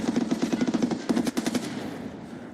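Rapid automatic gunfire in Escape from Tarkov, two quick bursts of evenly spaced shots close by, the second burst shorter, then a fading tail.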